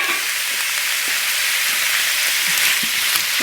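Minced garlic fries with shrimp in a hot pan, producing a loud, continuous, close sizzle with occasional stirring scrapes and no talking.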